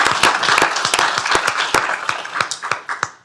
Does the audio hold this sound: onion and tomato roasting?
no